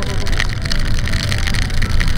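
Rain pours down during a motorcycle trip through North Luzon, a dense, steady hiss and patter of drops that is close and loud and fills the whole moment without a break.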